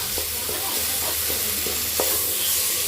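Gravy ingredients for a chicken gravy sizzle steadily in a pan while a spatula stirs them, occasional faint scrapes over a continuous hiss of frying.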